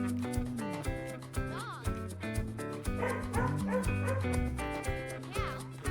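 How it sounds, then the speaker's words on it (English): A dog barks and yips in short bursts over bright, cheerful children's music, the barks recurring at intervals and sitting fairly close amid the melody. "Dog."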